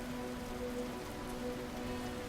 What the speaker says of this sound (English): Heavy rain pours from the sky.